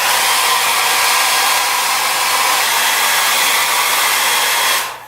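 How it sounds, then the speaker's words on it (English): A hair dryer blows hard and steady to dry wet paint on a canvas, a loud continuous whooshing roar held for about five seconds before it winds down at the end. "So for now, I'm just going to blow dry this out."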